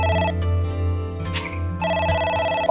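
A telephone rings in the game AI: The Somnium Files, loud and close, with repeated electronic ring bursts broken by short pauses over a low background tone.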